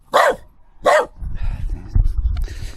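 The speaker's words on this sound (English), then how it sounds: "What are you barking at, daft dog?" A dog gives two loud, sharp barks close by, followed by low shuffling and muffled movement noises.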